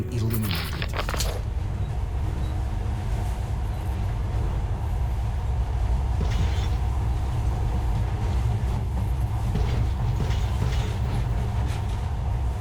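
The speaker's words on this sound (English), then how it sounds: "In the past, trains were ordinary things. But now, this monorail seems magic, doesn't it?" Monorail train running in Metro Last Light, a steady low rumble and rolling drone that continues throughout, with a brief clatter at the start and voices talking over it.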